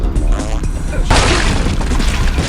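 Pump shotgun blasts boom in a shooting video game, a loud, sharp burst with a heavy echoing tail after earlier softer thuds, with a voice talking over the game audio.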